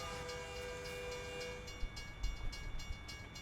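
A train in the video game American Truck Simulator rumbles past with a sustained horn, then rhythmic clacking of rail cars as it moves by, loud and close, with no talk.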